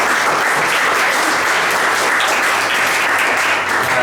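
A large audience at a workshop applauds loudly and steadily, dense clapping that fills the whole moment without pause.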